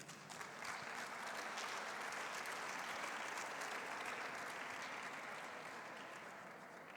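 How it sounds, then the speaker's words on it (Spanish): Warm, sustained applause from an audience at a university event welcoming rector Luis Serra, a thick wash of clapping that swells quickly, holds steady, and begins to taper near the end. "Un fuerte aplauso para él."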